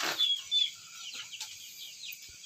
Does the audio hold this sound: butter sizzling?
no